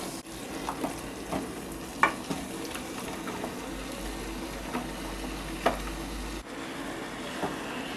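Chopped cauliflower frying in a pan makes a steady, moderate sizzle, with soft stirring taps and scrapes recurring every second or so.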